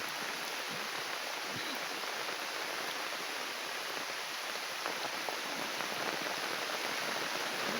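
Steady, dense rain hissing over flowing water, a constant wash of noise without any voices.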